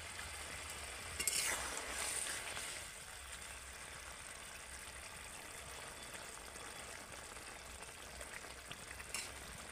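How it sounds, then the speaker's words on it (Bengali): Tangra fish simmers in a bubbling curry broth, a faint continuous sizzle and bubbling with a few louder stirring scrapes early on. "ঝোলের মধ্যে মাছগুলো দিয়ে কিন্তু কিছুক্ষণ একটু ফুটিয়ে নিতে হবে"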